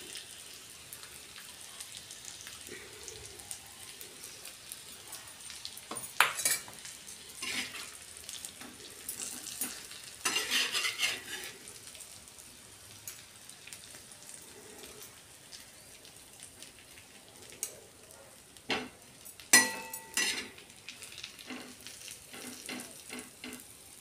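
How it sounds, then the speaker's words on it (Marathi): Bitter gourd slices frying in oil with masala added, stirred in a pan: a steady soft sizzle and crackle, with scattered scraping stirs and light utensil clinks, close and alone without talk. "कारले आपले फ्राय झाले. त्यात आपण थोडासा मसाला पण घालून घेऊ."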